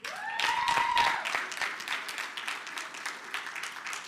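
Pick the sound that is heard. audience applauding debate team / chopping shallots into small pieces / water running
audience applauding debate team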